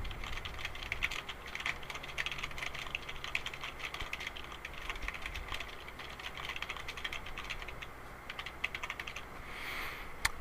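Steady, rapid typing on a computer keyboard, close and continuous, with dense key clicks through the whole stretch and no talk.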